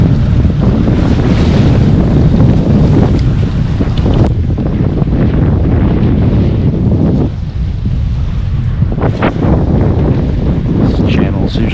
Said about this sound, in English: Before this wind throws me underneath that bridge.